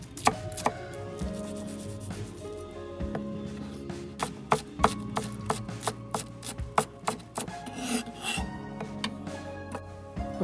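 A knife dicing a shallot on a cutting board, with a steady run of crisp taps and soft scraping strokes, close and fairly quiet, with a faint musical backdrop underneath.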